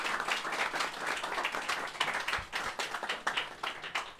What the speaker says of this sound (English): can I get a big round of applause for Dr. Edie Witter?